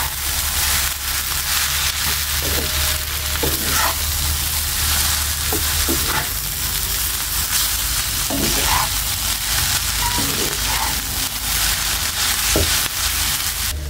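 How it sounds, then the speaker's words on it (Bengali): Vegetables, soy sauce, spices and noodle ingredients sizzle steadily in a hot pan while being stirred, with scattered utensil scrapes and clinks over a continuous close frying hiss and a low hum. "আমি সবগুলো উপকরণগুলো ভালোভাবে মিশিয়ে নিব সবজির সাথে"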